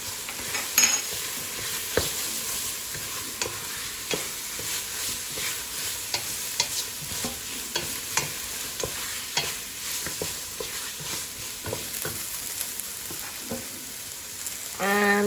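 Meat and turmeric fry in a pan for Lubia Polo while a utensil stirs them, a continuous close sizzle punctuated by regular scraping clicks for the whole stretch.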